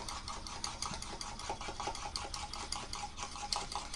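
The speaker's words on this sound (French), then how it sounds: "Donc hop, je vais mélanger." A hair mask of eggs, conditioner and avocado oil is stirred in a bowl with steady, quick, rhythmic clicking and scraping strokes, close and fairly quiet, with no talking.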